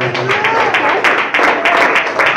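A church congregation claps in praise, dense rhythmic applause filling the room with voices mixed in.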